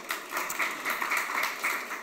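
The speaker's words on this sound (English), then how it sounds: "Please, round of applause for my fantastic guest today." Applause from the audience for a guest at a COP28 panel session: steady, moderately distant clapping from a crowd, fairly even throughout with slight pulsing, and no voices over it.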